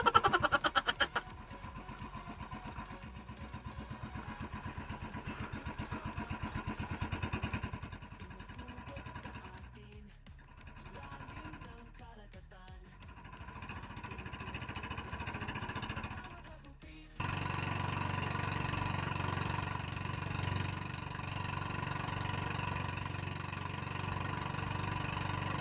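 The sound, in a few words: boat motor running at low speed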